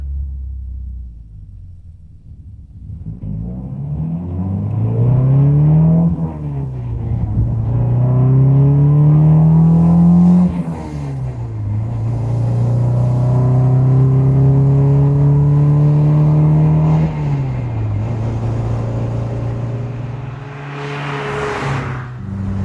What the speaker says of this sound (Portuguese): Vamos ver como esse pequeno motor Twin Cam se comporta?